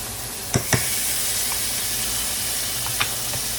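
Butter melting in a pan for honey garlic shrimp, giving a steady, close hiss of sizzling with a few sharp pops and crackles.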